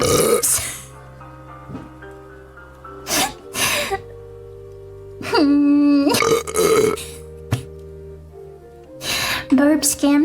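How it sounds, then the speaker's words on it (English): A performer in a pink faerie elf costume belches repeatedly, several loud, drawn-out burps spaced irregularly with quiet gaps between, close to the microphone and mostly alone. "You're being scammed by the burps."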